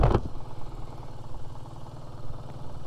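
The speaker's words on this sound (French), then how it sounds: "Quel moteur, mais quel moteur les amis, mais quel moteur." A BMW R nineT flat-twin boxer motorcycle engine idles at a standstill, a steady low, lumpy throb heard close up after a brief louder burst at the start, with no talking over it.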